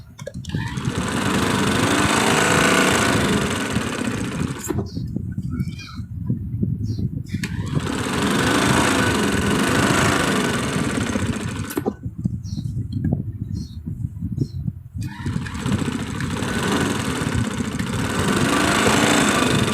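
Sewing machine running steadily while stitching elastic into a trouser waistband, a loud continuous motor whir broken by two short pauses, with no talking.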